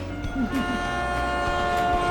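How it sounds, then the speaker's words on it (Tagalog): A train rumbles steadily nearby with a sustained low drone and a couple of brief horn-like tones near the start, continuous throughout. "Yan yung tren na naman."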